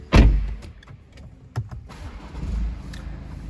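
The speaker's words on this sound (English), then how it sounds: "Now we started the car up" BMW 420d M Sport coupe with the M Plus pack firing up: a loud, sharp starter crank and catch at the start, then a steady low diesel idle with a few faint clicks and a mild rev swell.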